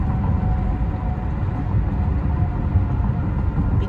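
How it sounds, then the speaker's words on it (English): A train rolls past, a continuous heavy low rumble of wheels and cars that stays loud and steady throughout with no talk. "as you can hear, there is a train going through"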